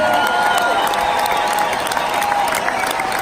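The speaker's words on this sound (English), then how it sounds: "I'd like to give them a round of applause." Concert audience at a tribute show applauding, a loud continuous roar of clapping mixed with crowd noise and some cheering, filling the room without pause.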